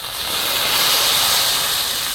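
Water poured into a hot pan of fried mung dal hisses in a loud, steady rush of steam that swells and holds for a couple of seconds, with no talking.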